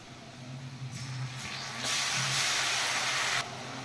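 Ginger garlic paste dropped into hot oil after fried onions, breaking into a loud, steady sizzling hiss that swells partway through and holds close before easing off.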